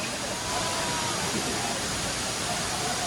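Steady rushing water roars without a break, a dense, even wash of sound from the Anachadi waterfall heard close by.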